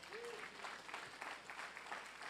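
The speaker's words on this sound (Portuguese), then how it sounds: "Quem vai aplaudir a Deus aqui?" Faint, distant applause from a church congregation, a soft, continuous patter of clapping with a brief voice near the start.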